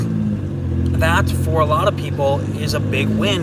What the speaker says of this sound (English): You can probably hear my motor in the background right now.